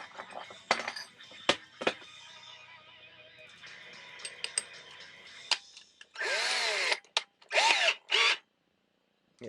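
A power drill fitted with a 7/16 bit boring into a plastic toy dart blaster, several short bursts of whirring, loudest near the end, separated by quiet handling clicks.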